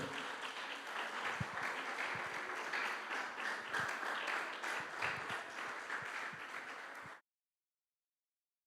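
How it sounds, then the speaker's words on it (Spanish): Church congregation applauding, a full sustained burst of many people clapping at steady loudness in a large room, continuing for several seconds before cutting off abruptly into silence. "Denle un fuerte aplauso a Dios."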